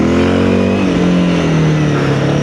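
A Honda CRF300L motorcycle engine revving off road, a loud, steady drone that climbs smoothly in pitch early on and then holds, close and alone with no talk.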